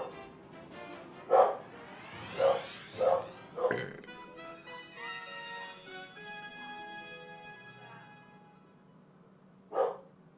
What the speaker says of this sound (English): Don't mind the barking.